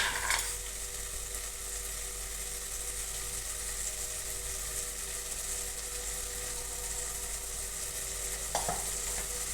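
Maggi noodles with red chili and spices are stirred in a pan, giving a constant close sizzle with soft scraping and a sharper utensil clink near the end, with no voices.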